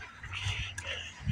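A dog out on a walk gives soft, high whimpers and whines close by, broken by a few low huffs and breaths.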